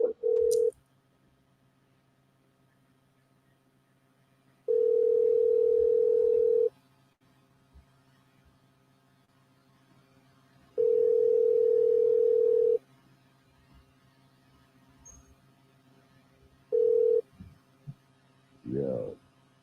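Steady telephone ringback tone sounding in regular long bursts separated by quiet gaps, with a low hum underneath and a brief short burst near the end.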